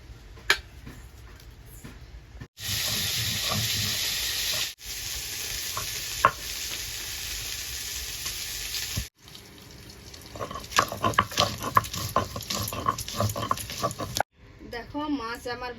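Fish frying in hot oil in a kitchen pan produces a dense, bright sizzle in several abrupt stretches separated by sudden cuts, with scattered crackles and stirring scrapes in the later part.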